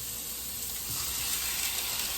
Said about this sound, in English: We're going to go in with our first steak, and that's the sizzle that we're looking for.